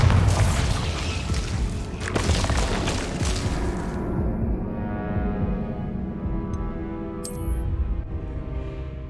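Bombarda spell in Hogwarts Legacy going off as a heavy booming explosion, a loud rumbling blast that rolls and slowly decays into a lingering low tail.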